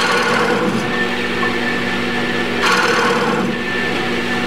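A skew chisel cuts into wood turning on a lathe, the machine's steady high-pitched whine running throughout with a rougher surge of cutting noise partway through.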